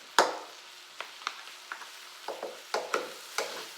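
Spatula scrapes and clacks against a pan as fried rice ingredients get stirred and mixed, a run of sharp irregular knocks over a faint sizzle, close and alone.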